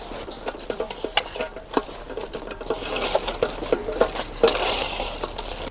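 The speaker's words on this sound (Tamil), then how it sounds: "நல்லா பிணைஞ்சு எடுத்துக்கலாம்" Wet, squelching hand-mixing of a thick banana vada batter with chopped onion and coriander leaves, with irregular soft slaps and stirring sounds close by, no talking.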